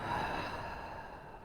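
One long, slow exhalation from a guided breathing exercise, a soft, steady breathy rush that fades gently, heard alone without talking.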